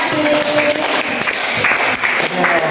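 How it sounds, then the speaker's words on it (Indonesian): A classroom full of people claps steadily and densely, the applause loud and continuous throughout, with faint voices mixed in, after a group presentation. "tepuk tangan untuk kelompok 1"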